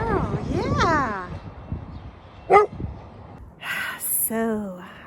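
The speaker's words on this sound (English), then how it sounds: "No, you don't have to bark at it." A dog indoors gives a short, sharp bark between whiny, whimpering sounds, with a person talking nearby.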